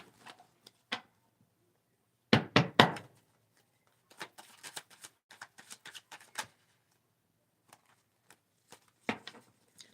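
Playing cards shuffled during a card reading: a quick riffling burst followed by scattered light taps and clicks of the deck being squared, close and fairly quiet, with no talking.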